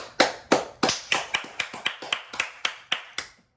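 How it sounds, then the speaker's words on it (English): Twelve or so crisp hand claps ring out alone in a loose, uneven rhythm, each a sharp close slap with a short decay. "Hand clap."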